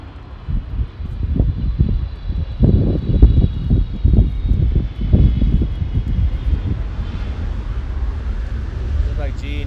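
EVA Air Boeing 777 airliner arriving from Taipei after a long-haul flight, a loud, steady jet engine roar with rumbling surges, heard from the ground with wind and a voice speaking over it.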